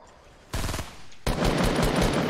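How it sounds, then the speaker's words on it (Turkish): Enemy gunfire in Fortnite, a short burst of rapid automatic shots followed after a brief pause by a longer, louder continuous volley, close and sharp. "Bak adam atış ediyor"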